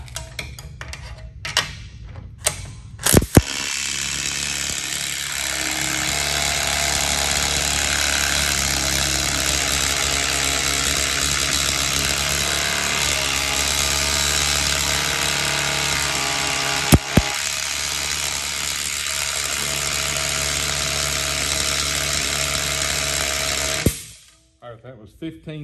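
A Mac Tools 1/4 inch impact wrench hammers on a bolt in one long, loud, continuous burst of rattling blows, starting after a few short bursts and a click and cutting off abruptly near the end.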